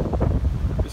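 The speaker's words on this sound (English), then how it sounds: "It's quite windy today, so I might have to speak up occasionally" Wind buffeting a microphone on an open hilltop at Cuffington Down in Hampshire, a steady low rumble and gusty roar that fills the whole second, with a brief hiss toward the end.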